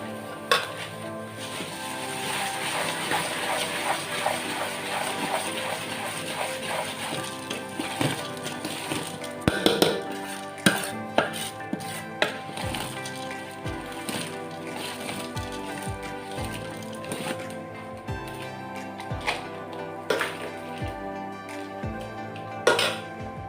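Puffed rice for churumuri is tossed and mixed in a bowl, producing a dry crackly rustle with repeated light clinks and taps of a spoon against the bowl, close and steady with no talk.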